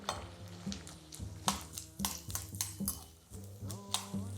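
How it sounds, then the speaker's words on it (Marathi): Edible gum (dink) fries in a pan for winter dink laddoos while a utensil stirs it, giving close, repeated scraping strokes over a soft sizzle, with no voices. "हे बघा, डिंक तळून झालेला आहे."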